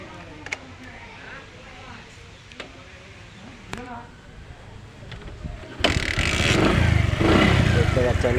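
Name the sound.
Bajaj Platina motorcycle engine started and running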